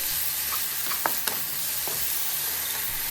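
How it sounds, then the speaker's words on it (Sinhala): Sauce being stirred through a pan for noodles: a steady frying hiss underneath with a few sharp scrapes and clinks of the spoon against the pan, no one speaking. "සෝස් එක දාලා හොඳට කලවම් කරගන්න."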